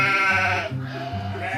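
A sheep bleats twice in close succession, loud and near, each call a wavering nasal cry with the second slightly shorter.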